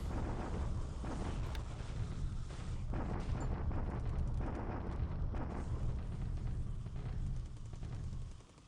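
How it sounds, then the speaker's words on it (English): A bombardment sound effect from the War in the Pacific strategy game plays as a dense, continuous rumble of booming artillery blasts that rolls on loudly and evenly until it cuts off. "this is us bombarding him, trying to get a feel for what exactly he's got in this hex"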